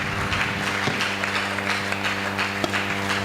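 A church congregation at a Sunday service applauds, with claps rising and falling in bursts over a sustained background of music or tones, and a few sharper claps standing out.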